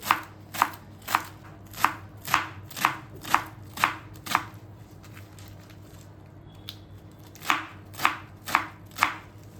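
A knife chops spinach greens finely on a board, a steady run of crisp, evenly spaced thuds close by, pausing briefly before the rhythm resumes.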